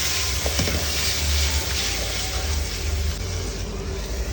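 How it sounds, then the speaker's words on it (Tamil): Tomato, onion and dried red chillies sautéing in a pan for mutton varuval, a steady close sizzle with scraping stir strokes running throughout, no voices. "தக்காளி, வெங்காயம், வரமிளகா அது எல்லாமே வந்து நல்லா வதங்கட்டும்."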